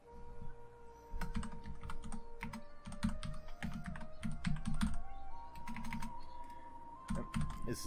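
Rapid, uneven bursts of clicking keystrokes rattle on a computer keyboard whose I key is faulty and double-types, close and clear over a faint steady tone from a strategy game.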